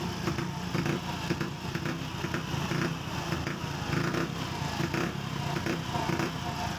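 Honda Wave CX110 motorcycle with a misfiring engine that persists despite a cleaned carburetor and new spark plug, running nearby with a rough, uneven sputter and irregular pulses throughout.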